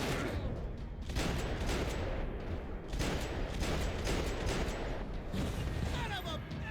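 Pistol gunfire in the Max Payne 3 video game comes as a dense, loud run of rapid shots and impacts with heavy action noise, and a voice is partly heard underneath.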